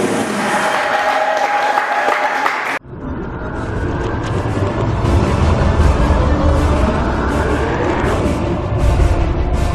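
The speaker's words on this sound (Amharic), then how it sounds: "ለጌታ ክብር አጨብጭቡ።" Congregation clapping at a church deliverance service, a loud sustained wash of applause and crowd noise rising after an abrupt cut, continuing steadily for several seconds.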